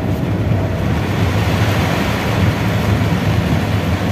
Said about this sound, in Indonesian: Hujan makin lebat.